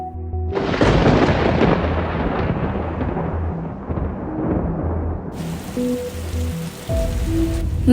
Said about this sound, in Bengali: বাইরে ঝড়ের হুঙ্কার, জানলায় বৃষ্টির ঝাপটা শুনছি আর শুনছি